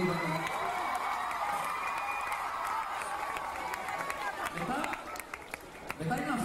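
Applause and cheering from a crowd at a live event in honour of the parents, steady clapping with occasional whoops that thins out near the end as a voice speaks.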